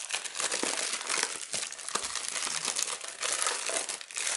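Plastic wrapping on a music album is crinkled and peeled up close, producing a continuous loud rustling with sharper crackles, with no talking.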